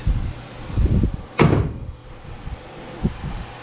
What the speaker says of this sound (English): So I closed the door and stuff flew off.